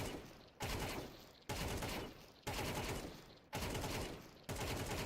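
Gunfire in a first-person shooter video game comes as five loud, regular sprays of rapid shots about a second apart, each cutting off sharply, with no talking over them.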